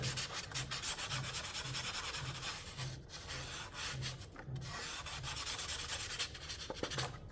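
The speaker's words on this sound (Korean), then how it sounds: "사포로 날끝을 문질렀어요." Steady, continuous abrasive rubbing of sandpaper scraped back and forth over the edge of a hook knife blade, close up and loud throughout with no talking.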